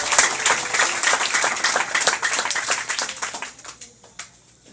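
A church congregation bursts into dense, close applause of many hands clapping, then thins to scattered claps that die away over a few seconds.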